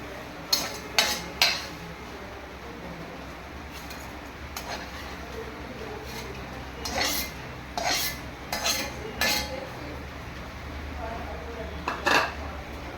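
Potatoes fry in a pan for bhujia while a utensil stirs and knocks against the metal in scattered clattering bursts over a soft steady sizzle, with occasional spoken words nearby.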